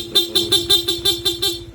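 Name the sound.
PIA aftermarket horn on Honda PCX160 scooter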